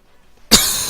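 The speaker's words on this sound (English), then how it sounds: "Sorry for the coughing." A single harsh cough breaks the silence, close and loud, then trails off into a lingering rasp.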